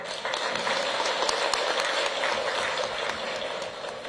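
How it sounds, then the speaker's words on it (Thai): Dense, steady applause fills a Palang Pracharath party meeting hall as the audience claps after a new party leader is elected, a loud, continuous wash of many hands with no pauses. "ขอเสียงปรบมือด้วยครับ"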